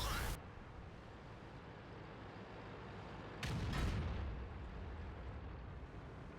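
Lorraine artillery firing in a World of Tanks battle: two muffled booms a few seconds apart, the first brief and the second a longer rumbling blast, against quiet, low game ambience.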